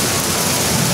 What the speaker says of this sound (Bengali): সেই আকারে বৃষ্টি হইতাছে।